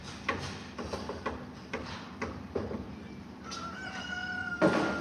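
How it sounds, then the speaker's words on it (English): A rooster crows in the background in rural Eastern Europe, a drawn-out call near the end of the clip, over a busy bed of soft clucking, scattered knocks and room noise, moderately distant and without speech. "Yes, there's a rooster in the background."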